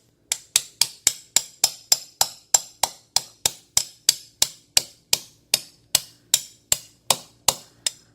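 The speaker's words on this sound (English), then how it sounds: "I just start tapping it with the hammer." A hammer taps steadily on bread packed into the pilot bearing hole of a 2JZ engine crank, about twenty-two sharp, close, evenly spaced strikes that each ring briefly before fading, with no talking.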